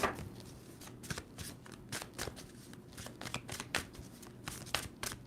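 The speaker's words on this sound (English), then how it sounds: "Two more shuffles for Capricorn." Tarot cards are shuffled by hand in a steady run of crisp riffling bursts, close and fairly quiet, repeated about a dozen times in quick succession with no talking.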